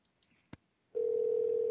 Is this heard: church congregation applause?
no